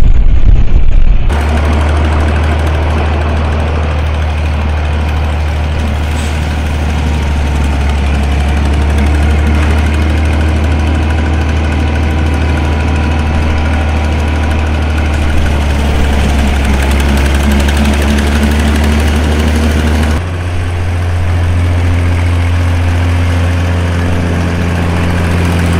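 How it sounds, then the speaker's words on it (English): An old John Deere 4020 LP tractor engine works under heavy load while mowing pasture. It gives a steady, loud, deep drone that is close and continuous, with a slight shift in tone near the end and no speech. "Can't beat the sound of an old tractor loaded down."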